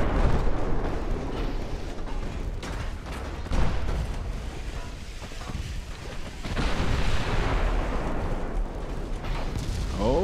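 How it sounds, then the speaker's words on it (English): A torpedo hit explosion in the naval battle game Ultimate Admiral: Dreadnoughts, heard as a dense, loud, rumbling boom that swells and sustains over heavy low-frequency noise, with a faint voice partly in the mix. "there's a torpedo hit"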